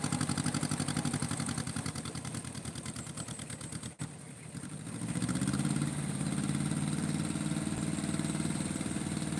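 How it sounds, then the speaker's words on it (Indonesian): A tractor engine runs steadily and fairly loud in a continuous chugging drone, dipping briefly midway before settling into a lower, heavier throb. "Ini traktor nih."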